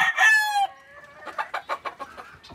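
A bad-tempered rooster crows loudly and close by, then breaks into a quick series of short clucks.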